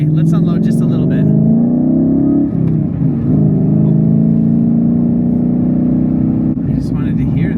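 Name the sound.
signed Shelby Mustang GT350 accelerating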